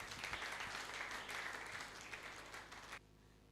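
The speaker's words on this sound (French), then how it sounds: "Une fois de plus, acclamons très très fort le Tout-Puissant." Church congregation applauding, a dense, steady wash of clapping from a crowd that cuts off abruptly near the end.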